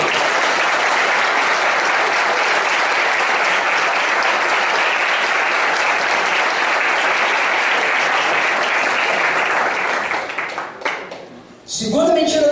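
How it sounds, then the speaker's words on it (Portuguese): A church congregation breaks into sustained, loud applause, a dense and even roar of clapping that holds steady for about ten seconds, then thins out and falls away before a voice returns at the end. "Vamos dar um aplauso no Senhor aí."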